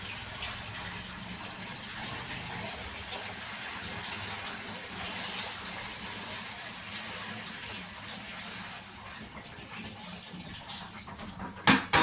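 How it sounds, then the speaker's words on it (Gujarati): Water poured steadily into an air cooler's tank, a continuous gushing fill that runs near and fairly loud for most of the stretch, ending with a few sharp knocks. "બધું પાણી નાખી દઉં છું"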